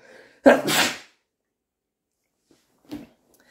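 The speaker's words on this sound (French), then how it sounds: "je vais éternuer, attention, accrochez-vous" A single loud, close sneeze bursts out, followed by silence and a faint short sniff or breath a couple of seconds later.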